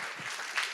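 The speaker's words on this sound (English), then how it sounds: "everyone's standing up applauding as well" An auditorium audience at a symposium applauds, a dense, steady patter of many hands clapping at moderate distance, with no voices over it.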